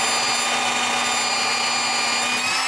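A drill bores a bolt hole through a piece of wood for a camera mount at a winter cabin: one steady, close, continuous whir with a constant hum and no pauses.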